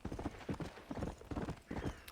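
Horse hooves clip-clopping in the Red Dead Redemption video game, a steady rhythmic trot of soft distinct hoofbeats at moderate distance, with no talk.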